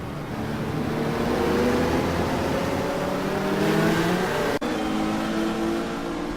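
Several race cars in a GT racing sim roar and accelerate around the Montreal circuit on the opening lap, their engine notes rising steadily and overlapping as they pull away, loud and continuous with a brief sharp click partway through.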